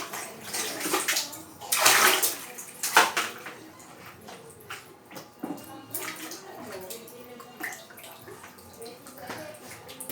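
Water runs and splashes in a home setting, rising in bursts and settling into a steady trickle, with faint clinks in between and no clear speech over it.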